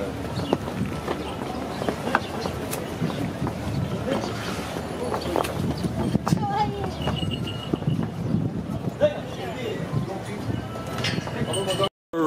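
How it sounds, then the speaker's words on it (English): Donkeys' hooves clip-clop on the ground at a busy donkey station in Santorini, a scattered run of close knocks and footsteps under steady outdoor noise and voices. "So right here is the donkey station where you get your donkey."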